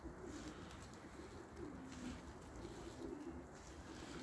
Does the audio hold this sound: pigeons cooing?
yes